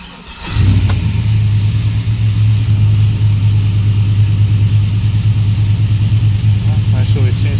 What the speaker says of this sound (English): I'm going to go ahead and fire it up. Might be idle a little too high.